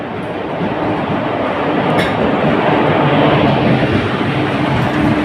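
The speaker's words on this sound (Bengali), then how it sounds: "তো আপনারা প্রত্যেকেই দেখতে পাচ্ছেন ট্রেন এসে গেছে" A train rolls into a station with a loud, close, continuous rumble and a dense rattle of wheels and carriages, building slightly as it passes, with no voices over it.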